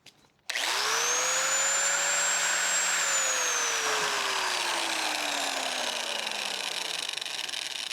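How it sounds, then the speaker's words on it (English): A die grinder powered by an OUPES portable power station starts abruptly with a high whine, holds at full speed, then slowly spins down in pitch while still running, loud and close with no talking. "So none of these had a problem with a die grinder."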